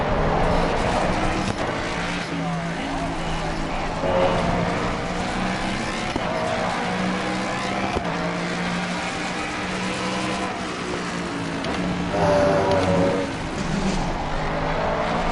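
A race car engine in the racing game Assetto Corsa Competizione drones continuously, a steady mid-distance roar with slight rises and dips in pitch as it holds speed through corners.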